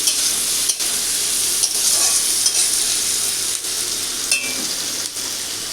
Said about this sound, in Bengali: পেঁয়াজটা দিয়েও আমি 1 মিনিট সময় ধরে হালকা লালচে করে ভেজে নেব